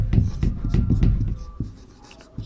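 Chalk tapping and scratching on a board in quick strokes, a rapid run of close, dry knocks that slows and thins toward the end.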